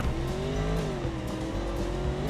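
A sleeper car in the BeamNG.drive racing game, fitted with extra-grip tires, is dropped from neutral and launches, its engine roaring loud and steady with shifting pitch and a hint of tire squeal.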